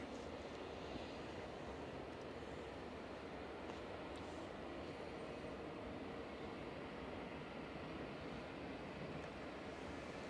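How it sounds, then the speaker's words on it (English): A Ryanair Boeing 737 MAX 8 arriving from Barcelona touches down at Manchester Airport, heard as a steady, broad distant roar of jet engines that stays level throughout, with no talking. "There's also another Ryanair about to touch down from Barcelona, which is 737 MAX 8 EIHB"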